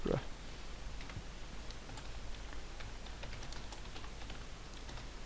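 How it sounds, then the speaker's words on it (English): Fingers type a short entry on a computer keyboard, producing scattered, quiet clicks against a faint background hiss. "And type in Roseman Sigra."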